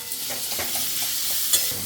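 Chopped onions sizzle and fry in hot oil in a pan while being stirred, with soft scraping strokes over a steady crackle, close and alone.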